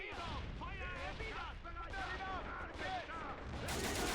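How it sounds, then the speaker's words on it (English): Grenade blasts and rattling gunfire hit a bunker in the Army Men video game, a busy barrage of shots and explosions with high whistling tones over it and a voice talking throughout. "A ton of grenades just coming in the direction of this bunker."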